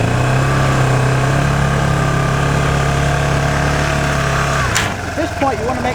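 A motorbike engine runs steadily at close range with a constant droning hum, then the note drops and roughens near the end as the throttle eases, while a person talks over it.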